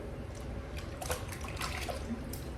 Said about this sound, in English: my application of water is done by dipping my brush